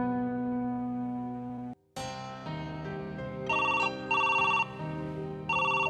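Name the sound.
telephone ringing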